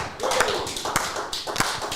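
Applause from a crowd with a few sharp, distinct claps standing out over a steady patter of clapping hands, fairly close and loud.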